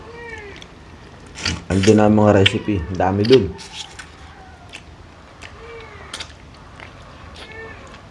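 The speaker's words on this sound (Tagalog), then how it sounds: "Nag-iinay na yung pusa." Cat meowing insistently in a home kitchen, a loud drawn-out cry in the middle with softer meows before and after, while someone talks nearby.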